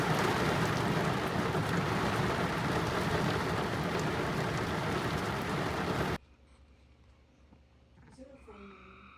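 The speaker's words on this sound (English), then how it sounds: "this rain is absolutely crazy" Heavy rain pounds on a parked car, a loud, steady close roar of drumming drops for about six seconds before cutting to a much quieter scene.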